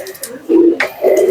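Pigeons coo in two loud, close bursts, kept as a pet pair in a home loft, with a brief higher sound at the start and no talk over the calls.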